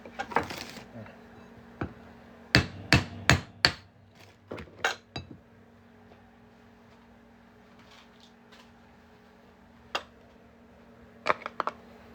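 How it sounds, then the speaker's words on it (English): Sharp metallic taps ring out in quick clusters, a hammer striking a coin being made into a ring several times, then sparse single hits after a quiet pause. "I'm going to hammer that on through."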